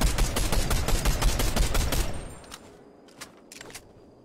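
Rapid cannon fire from a shooter video game rattles in a loud, fast burst of repeated shots for about two seconds, then cuts off, leaving a few faint distant pops.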